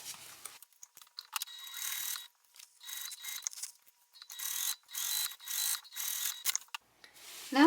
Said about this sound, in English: now we're going to come in and sew this with the full seam allowance